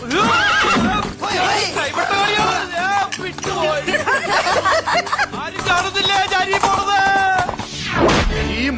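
A horse neighs and whinnies loudly several times, with faint hoof clip-clop and people talking, in a scene from a Malayalam comedy film.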